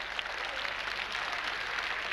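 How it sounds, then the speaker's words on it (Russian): An audience applauds steadily at a televised comedy show, a dense even wash of many hands clapping at moderate loudness throughout, without talk. "Подождите хлопать, мы же еще не доиграли."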